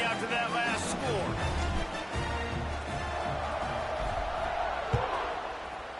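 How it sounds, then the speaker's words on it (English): A stadium crowd in the College Football 26 video game keeps up a loud constant roar after a score, heard under continuous play-by-play commentary. "this crowd is buzzing after that last score"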